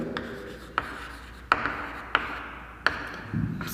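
A pen scratches across a page during a class lesson in a series of short, distinct strokes at a steady pace. Each stroke is brief and close, set against quiet room noise with no talking.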